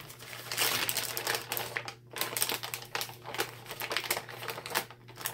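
Raspberry bars being lifted out of baking paper: close, crisp crinkling and rustling of the paper in irregular bursts, fairly quiet, with no voices.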